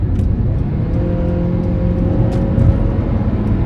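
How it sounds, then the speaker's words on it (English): A 2015 Honda CR-V accelerates onto a freeway, its engine drone and road noise steady and close inside the cabin, with a low rising hum and no talking. "I'm getting on the freeway here, as you can tell."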